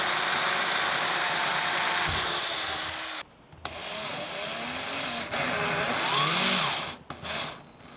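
A drill runs loud and close almost continuously through the deck of a 2019 Xpress X21 boat, its motor note wavering as it bites, with two short pauses before it spins up again.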